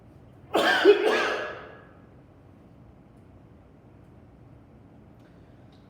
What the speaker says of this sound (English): Don't worry the fact that I'm coughing.